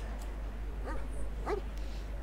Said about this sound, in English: I've got my little cute puppy now